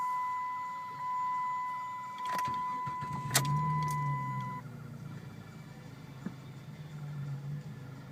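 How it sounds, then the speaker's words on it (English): A 2002 Dodge Intrepid's engine, about 83,000 miles on it, hums steadily inside the cabin during a test drive, with a few clicks and a brief mechanical whir partway through, and no talking. "today we're going to do a test drive of the 2002 Intrepid."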